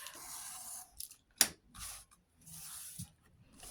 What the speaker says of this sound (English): I'm going to cut that back flap off